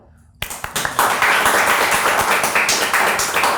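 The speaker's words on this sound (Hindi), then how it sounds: "Huge round of applause for Danish" A studio audience bursts into applause for Danish Alfaaz, a guest on the talk show Spice it up. A brief quiet gives way to scattered claps that quickly swell into dense, loud, sustained clapping.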